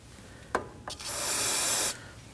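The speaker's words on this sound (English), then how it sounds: "Using some degreaser, go ahead and spray off the area." A few short sharp spritzes of degreaser onto an oily area of a 2011-2016 Kia Optima 2.4L during AC condenser replacement, then a sustained hissing spray lasting about a second, close by in a quiet space.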